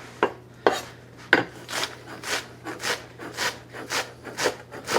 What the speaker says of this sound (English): you want to cut through the Caesar salad a little bit finer than you normally would